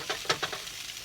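Sliced onions and celery sizzle in a pan while a utensil breaks them up, making a loud, close frying hiss with several quick stirring scrapes.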